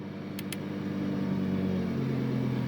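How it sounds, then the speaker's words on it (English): Sports car engine, an SV, switching from a sport mode back to Corsa mode, its steady idle drone rising slightly in revs partway through, close and continuous with no talk. "See the revs increase there."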